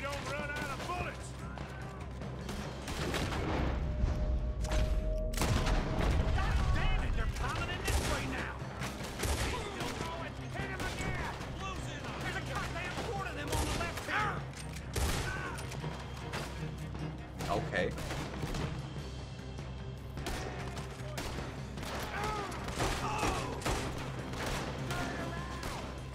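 Gunfight in Red Dead Redemption 2: rapid, dense volleys of gunshots crack and thud without pause over a long stretch, loud and close, with a low rumble beneath and occasional voices.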